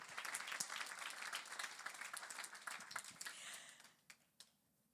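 Banquet audience applauding at a fundraising dinner, a dense burst of clapping that thins out and fades to a few scattered claps near the end.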